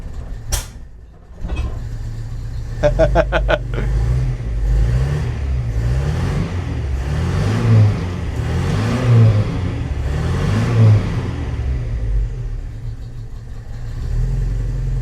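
A Datsun 140J engine runs for the first time in 20 years, a few sharp clicks at the start giving way to a continuous mid-pitched idle with rhythmic revving swells, close and steady with no talk.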